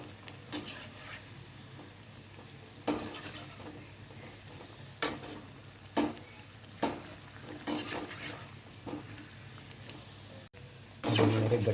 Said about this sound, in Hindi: अब मैं इन गट्टों को पलट लूँगी।